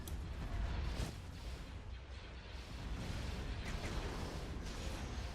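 Rumbling, repeated cannon blasts and booms from a Star Wars space battle video game, a dense, continuous barrage of heavy low bursts rolling one into the next without voices.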